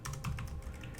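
Brief burst of typing on a computer keyboard, several quick soft key clicks over a low background hum.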